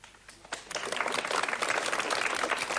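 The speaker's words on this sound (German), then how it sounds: "Ihr seid so gut mit dem Applaus heute" Television studio audience breaks into lively, sustained applause after a brief quiet start, filling the room and holding steady to the end.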